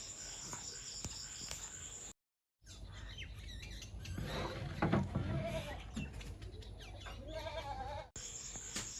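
Goats on a rural family homestead bleat several times in the middle of the stretch, fairly close, over a faint bed of birds and insects.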